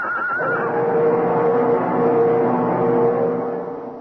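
A horse falls on an icy road in a radio drama sound effect, letting out one loud, drawn-out whinny that wavers before fading.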